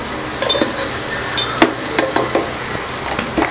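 Poha upma with turmeric and salt being stirred in a pan, a steady scraping rustle with spoon clicks repeating every half second or so, close and moderately loud, no voices.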